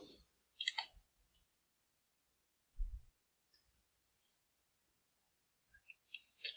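A few quiet, sharp computer mouse clicks while building a survey in Google Forms, isolated and spaced apart against near silence.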